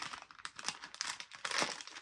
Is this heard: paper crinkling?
yes